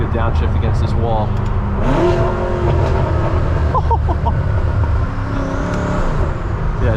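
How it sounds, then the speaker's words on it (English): A BMW M6 with an aftermarket exhaust downshifts and revs hard beside a wall, its loud engine roar rising and falling up close, with people talking over it inside the car. "Did a good downshift against this wall."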